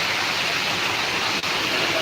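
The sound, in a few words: water pouring off terrace from 2 HP motor pump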